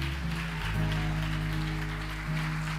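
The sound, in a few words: congregation applauding in church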